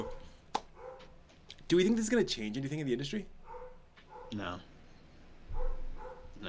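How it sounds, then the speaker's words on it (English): A dog barks a few times in a room during a spoken roundtable discussion, the barks partly buried under the talking voices. "Oh, you can hear the dog."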